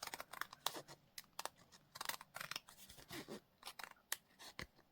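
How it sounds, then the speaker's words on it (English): Scissors trim off excess material in a run of quick, close, crisp snips and short cutting crunches, with brief pauses between cuts in an otherwise quiet room. "so I'm just going to trim that off."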